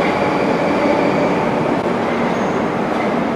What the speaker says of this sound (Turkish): Mesela şu an metronun gidişini izledik.